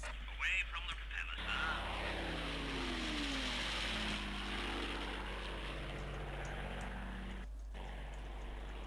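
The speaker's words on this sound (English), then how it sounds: "now for this one we're going to bring in a reconnaissance plane first. Again, just show off some engine sounds." A video game propeller reconnaissance plane engine drones steadily, its pitch sweeping slowly as the plane passes high up, with a constant low hum beneath and no talking.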